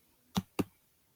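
Two crisp computer mouse clicks about a quarter second apart, close and isolated against a quiet background, made while starting voice typing in Google Docs.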